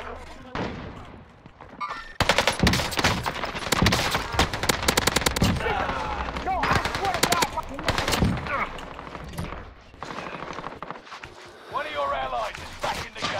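Gunfire in a multiplayer shooter game, with dense bursts of rapid automatic shots and crackling fire in close, loud volleys, interrupted by brief pauses, while players talk over it.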